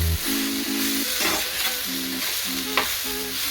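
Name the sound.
stirring brinjal sabji frying in a pan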